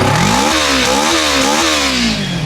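A 2022 second-hand superbike with a V2 engine and about 5000 km on it revs up and down close by, several rising and falling surges over a rough, throaty idle.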